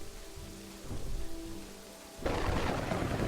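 A thunderstorm in the Kingdoms and Castles video game plays as steady rain hiss with a low rumble, then swells into a louder burst of rain noise near the end.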